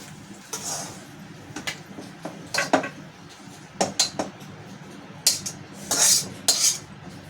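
A utensil scrapes and scoops samosa filling out of a metal pan, giving a series of short clinks and scraping knocks spaced irregularly, close and moderately loud against a quiet background.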